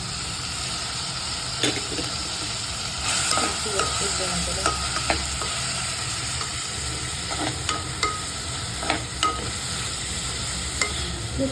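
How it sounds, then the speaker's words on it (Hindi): Carrots and green beans sautéing lightly in a pan, a steady close sizzle and hiss with scattered sharp clicks and scrapes from a stirring utensil, no voices. "ये थोड़ा लाइट सॉटे करी है"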